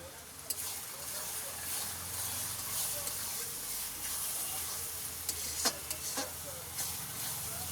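Curry mixture frying (kosha) in hot oil gives a steady, close sizzle and hiss, broken by occasional scraping stirs through the pan.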